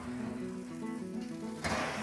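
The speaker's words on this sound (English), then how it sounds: "I can actually hear them sizzling in the oven" Turkey meatballs sizzling in a hot oven, a soft steady crackle and hiss heard faintly with a low hum behind, then a brief brighter burst near the end.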